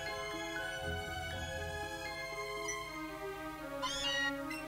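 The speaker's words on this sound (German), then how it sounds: "Das ist kein sprechendes Mauzi, ich bin enttäuscht. Es miauzt nur vor sich hin." Meowth from Pokémon Let's Go Eevee meowing in-game, a soft repeated cat cry layered over steady game music that continues throughout.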